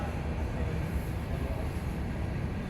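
An antique flywheel steam engine runs at an exhibit in Tampa, giving off a steady, low mechanical rumble that stays even throughout with no distinct strokes standing out.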